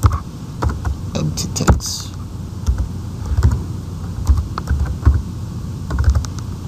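Rapid uneven clatter of keys on a computer keyboard as a project name is typed, close and fairly loud, with short bursts and pauses between keystrokes.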